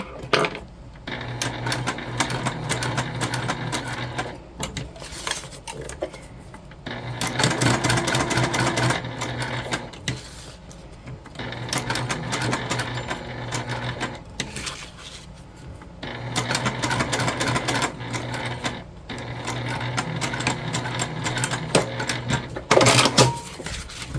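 A sewing machine stitches straps for a Trailblazer convertible bag in bursts of steady, fast rhythmic running, stopping and starting several times with brief pauses between runs, close and fairly loud.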